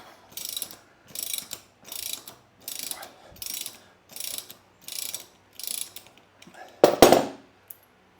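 A ratchet loosening a 24mm wheel nut on a Royal Enfield Interceptor 650 motorcycle, eight evenly spaced bursts of rapid clicking, close and clear, ending in a louder metallic clack.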